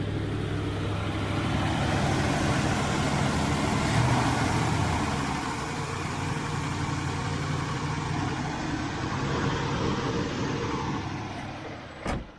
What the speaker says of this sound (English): Now both chokes are off, let's see what the idle speed is like now. I've still got quite a fast idle speed, haven't we?